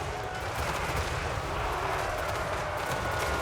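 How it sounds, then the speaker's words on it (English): Explosions burst among infantry in a Total War: Warhammer 3 battle, a dense, continuous rumble of blasts and gunfire layered into loud, unbroken battle noise. "Gotta love all of those explosions amongst the infantry"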